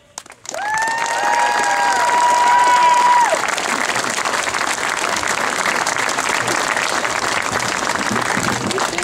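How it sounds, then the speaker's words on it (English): A crowd at an outdoor event for a monument bursts into loud applause and cheering for a Desert Storm veteran, with shouts and whoops over the opening seconds, then sustained dense clapping. "Let's have a loud round of applause for Jen Hanley."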